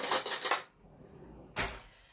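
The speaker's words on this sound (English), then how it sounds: "I'm just going to get a little spoon from the drawer" A small metal spoon is pulled from a kitchen drawer while pasta and broccoli cook: a bright burst of jangling cutlery, a quiet pause, then a second short clatter of silverware, close by.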